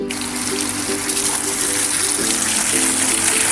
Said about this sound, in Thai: ลดให้ชุ่มๆชุ่มๆล้นๆเลยนะครับ